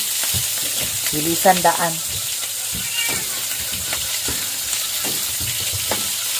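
Cooking oil spatters and sizzles steadily in a frying pan under a casual conversation in Cebuano, with a cat meowing a few times nearby.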